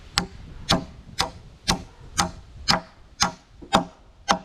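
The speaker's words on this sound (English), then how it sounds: "why don't you use a nail gun? Well, I like the hammer." A hammer drives nails into wood while building a bath house, nine sharp, evenly spaced blows about half a second apart, loud and close, with no talk over them.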